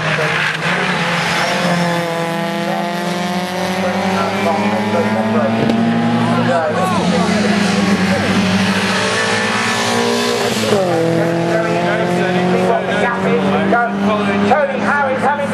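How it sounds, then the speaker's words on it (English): Race cars at Snetterton circuit roar past loudly, their engine notes rising and then falling as they go by, while a commentator talks over them throughout. "And in comes Richard Garrard in the 49 car"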